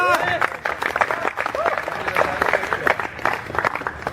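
Loud applause fills a hostel annual function hall during a prize announcement, with rapid crowd clapping and voices rising through it.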